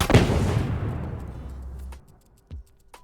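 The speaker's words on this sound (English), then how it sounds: "It has a landing sound, it has an explosion sound, it has a tail." Layered game explosion sound effect: a loud, broad boom at the start decays through a long rumbling tail of about two seconds, followed by a short low thump and a faint high ping near the end.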